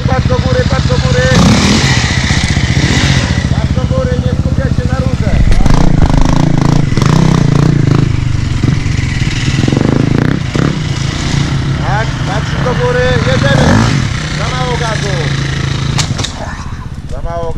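A loud motorcycle engine revs repeatedly, its pitch rising and falling in surges, while people talk over it.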